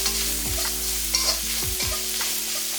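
Onions sautéing in a pan for cabbage poriyal, a steady close sizzle broken by a few distinct spatula scrapes and knocks against the pan.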